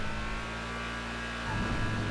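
A steady engine of a 2018 Hustler car in a GTA FiveM video game hums at an idle-like drone, shifting slightly in tone near the end, with no voices.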